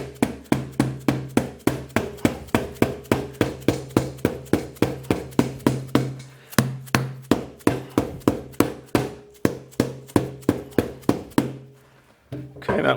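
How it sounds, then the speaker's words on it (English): A mallet taps Sidi Crossfire 3 SRS enduro soles into place on a boot: a long run of steady, sharp knocks, fairly close and evenly paced, with a brief pause near the end before a final strike. "and then I'm going to finish off with a mallet."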